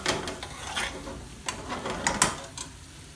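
Lamb balti being stirred in a sizzling pan after a heap of tomato ketchup is added, giving steady close frying hiss with several sharp scraping clinks of a utensil against the pan.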